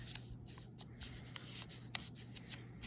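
Paper being pressed and folded flat produces soft, close rubbing and creasing strokes in a loose rhythm over a faint steady hum, quiet throughout.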